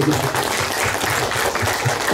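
An audience claps at the inauguration of the Leuwi Jendral dam in Bojongsawah village, a short burst of dense, steady applause from a crowd, fairly close and even in loudness.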